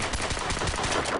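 Rapid automatic gunfire in the Crysis 2 video game, a continuous burst of shots at a steady moderate level with no speech.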